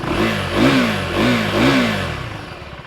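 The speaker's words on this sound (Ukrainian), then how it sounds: "В цілому, як ви чуєте, мотоцикл достатньо тихий. Мені здається, навіть двигун чути більше, ніж вихлоп." A 2024 Husqvarna Svartpilen 401 motorcycle engine revs up and down in three swelling pulses, close and fairly loud, then settles back toward idle.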